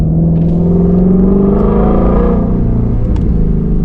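A Shelby GT350R with its factory stock, resonator-delete exhaust revs steadily, giving a loud, continuous raspy engine tone that climbs and settles, heard close from inside the car.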